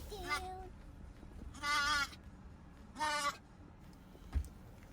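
Goats bleat in a few separate drawn-out cries inside a moving Subaru, with quiet road rumble underneath.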